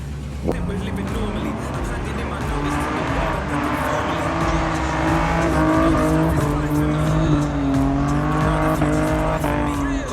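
A drift car's tires squeal loudly over a roaring engine at Mission Raceway, the shrill screech sustained and wavering as the car slides, with crowd-like noise underneath.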